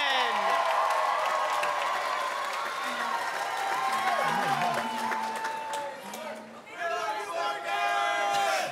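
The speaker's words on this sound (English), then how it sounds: "please join in and let's give a big round of applause to the Kingsmen" Convocation audience claps and cheers in a large hall, a broad continuous wash of applause and crowd noise with a voice and singing rising over it.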